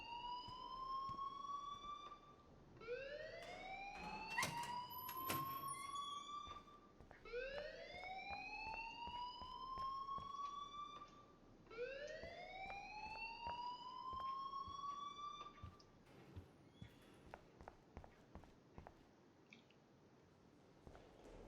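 A school fire alarm ringing in the video game Life Is Strange, repeating rising electronic whoops in a steady cycle, fairly faint and distant, with clicks and scattered background noise between them.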